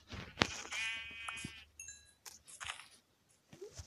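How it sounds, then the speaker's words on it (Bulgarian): A Minecraft sheep gives a clear bleat in survival mode, close and moderately loud, surrounded by short clicks, hits and a brief chiming game sound. "Такава овца много редко се спаунва."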